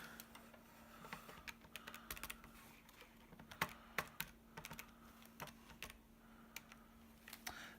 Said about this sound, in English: Type it into calculator and we've got our value.